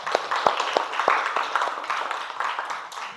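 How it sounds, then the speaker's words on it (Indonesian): A small classroom group gives Tristan a brief round of applause, with a few sharp, scattered claps over a steady hiss of clapping hands, moderately close. "tepuk tangan buat Tristan dulu"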